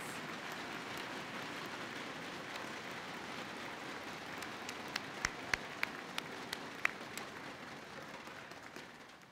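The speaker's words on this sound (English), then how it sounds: "Let's have another round of applause for all our nominee finalists and recipients" A college convocation audience applauds award nominees and recipients, a steady, hissing spread of distant clapping like rain, with a handful of sharper nearby claps standing out partway through.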